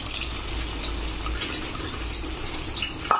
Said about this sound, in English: Now I am adding dal and coconut mixture.